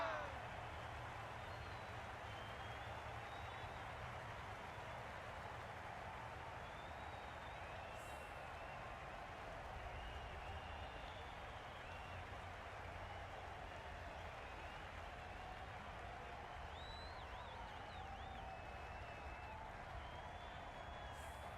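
A stadium crowd in the cricket game Cricket 22 applauding a batting display, a steady broad wash of clapping and crowd noise that holds for about twenty seconds, faint and even, with a commentator talking over it.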